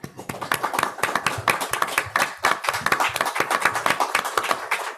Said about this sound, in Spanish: les vamos a dar un aplauso nuevamente.